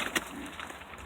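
Show pigeons such as Dutch Capuchins cooing softly and continuously nearby, a low steady murmur with no talk.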